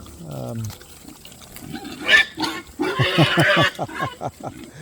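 Young pigs grunt and squeal in short, rapid bursts nearby at feeding time, growing busier and louder toward the end amid a splashing or snuffling background.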